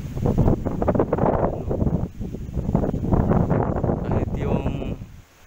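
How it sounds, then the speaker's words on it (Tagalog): Strong typhoon winds gust and roar against the microphone, a loud, buffeting rush that swells and drops in bursts, with a voice speaking under the noise. "Tunog ng hangin"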